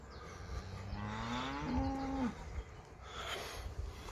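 A dairy cow on a farm lets out a clear, drawn-out moo mid-clip, its pitch rising and bending, set against quiet outdoor farmyard background.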